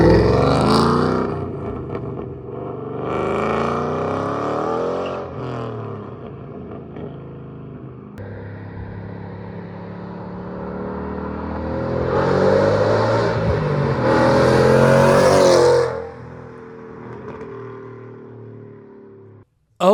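A Ford Mustang drives and revs on a cross-country road trip, its engine note rising and falling through several strong pulls and gear changes, loud and close, with a surge near the end before it drops away.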